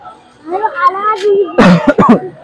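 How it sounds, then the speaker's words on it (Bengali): A nearby voice makes a drawn-out vocal sound, then two or three quick, harsh coughs follow close together at close range. "কাশি হচ্ছে কেন এত?"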